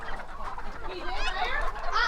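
Bantam chickens cluck in a quick run of rising, nasal calls at close range, continuous for a couple of seconds with no talk.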